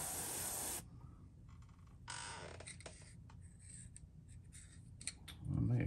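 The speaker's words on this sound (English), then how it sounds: "I may have sprayed the wrong one on there." An aerosol paint can sprays a fishing lure in short close hisses: one opening burst, a longer spray after a pause, then scattered light handling taps and a low thump at the end.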